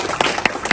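Clapping from an audience at a fisheries workshop, a few sharp claps standing out over a faint, scattered patter, brief and fairly close.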